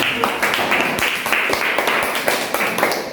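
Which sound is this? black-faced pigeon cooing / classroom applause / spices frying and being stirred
classroom applause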